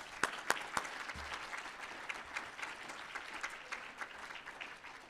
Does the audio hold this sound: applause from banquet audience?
yes